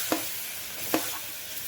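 Carrots in hot oil seasoned with mustard seeds, cumin, asafoetida and turmeric give a soft continuous sizzle, with two brief stirring clicks against the pan.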